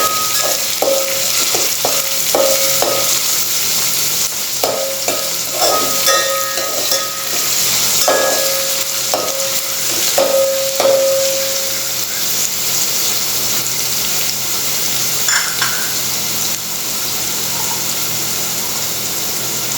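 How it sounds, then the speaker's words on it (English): Onion fries in a pan with a steady bright sizzle throughout, broken by repeated metallic scrapes and clinks of stirring, close and fairly loud with no talk. "Fry the onion till it turns translucent."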